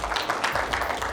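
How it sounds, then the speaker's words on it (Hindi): Audience applause at a corporate presentation event in Kohat, a brief burst of dense clapping from a crowd, moderately loud and steady throughout. "नहीं तो फिर एक बार तालियां बजा के बताएं।"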